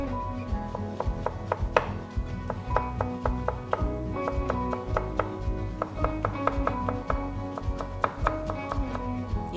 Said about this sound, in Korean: 채 썬 거를 방향을 돌려놓고 송송 썰어주세요.